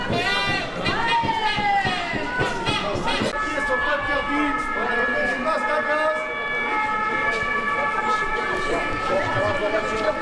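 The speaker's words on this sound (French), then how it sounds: "sirène." An emergency siren wails at an anti-pass street protest in Limoges in March 2022, its rising and falling tone settling into a steady howl over a loud, shouting crowd and nearby voices.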